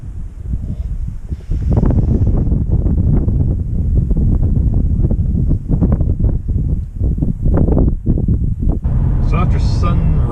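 Strong wind in the Columbia Gorge buffets the microphone in loud, uneven gusts, roaring in bursts after a quieter start and easing briefly near the end.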